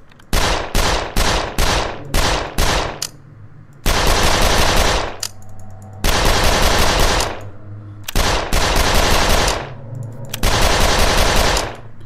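Gunfire from the zombie video game 13 More Days in Hell rattles out in loud, close bursts, first quick choppy shots and then long sustained automatic volleys separated by brief pauses.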